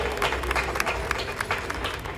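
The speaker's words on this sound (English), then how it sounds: "Let's give him a round of applause." A crowd at an outdoor flag raising ceremony applauds the Deputy Mayor, a moderate, uneven clatter of clapping with a low rumble of crowd and wind underneath.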